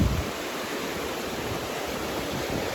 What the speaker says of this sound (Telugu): ఈ వాటర్ అనేది ఫ్లో వెళ్ళిపోతూనే ఉంది